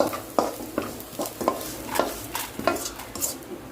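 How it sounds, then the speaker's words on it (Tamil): Curry leaves and spices roasting in oil for homemade rasam powder, stirred with a utensil: a steady series of scraping, stirring strokes roughly every half second over a faint background crackle of oil, close and moderately loud. "எண்ணெயில் போட்டு வதக்கணும். அது வந்து ரோஸ்ட் வரணும்."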